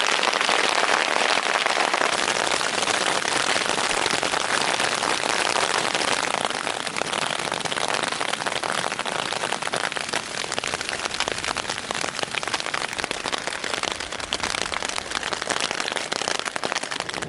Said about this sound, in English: It's hailing out.